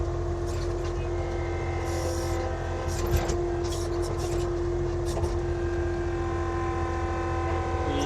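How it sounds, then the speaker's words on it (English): An Avant compact loader drives back and forth while spreading gravel, its engine giving a steady, loud, continuous drone with a constant tonal hum and occasional clanks, close by. "I will be just driving this Avant machine here back and forth"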